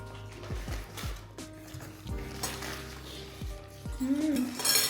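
A metal pan and utensils clank and scrape in sharp, irregular knocks while nasi goreng is frying, close by, with a sizzle building toward the end and people talking softly in the background.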